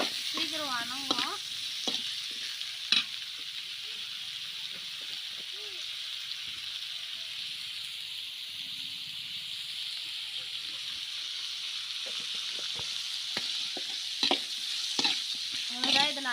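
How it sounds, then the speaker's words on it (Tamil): Tomatoes with salt sizzle softly in a pan, a steady frying hiss with scattered stirring clicks, while a person speaks briefly at moments. "இது நல்லா வதங்கட்டும்."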